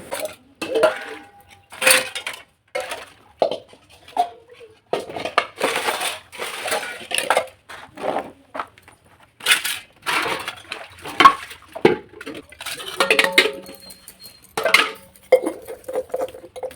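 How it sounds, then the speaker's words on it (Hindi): Metal dishes, pots and cutlery clatter and clink as they are handled and set down, in repeated close, loud bursts with short pauses between them and no talking. "जितने भी सारे बर्तन थे उनको मैं निकाल के लेके आ गई हूँ।"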